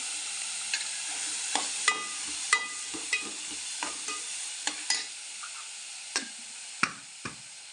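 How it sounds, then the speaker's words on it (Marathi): Oil sizzles in a pan while vegetables for pav bhaji are cooked, a constant bright hiss broken by a dozen sharp spatula knocks and scrapes at an uneven pace, close and with no voices. "तेल टाकूया"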